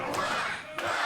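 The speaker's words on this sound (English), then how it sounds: "getting the crowd to chant quack for Devious Danny" A wrestling crowd at a UKPW match chants 'quack' in unison, steady and loud across the arena with a brief swell near the end.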